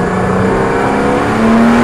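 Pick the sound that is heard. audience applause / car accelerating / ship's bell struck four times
car accelerating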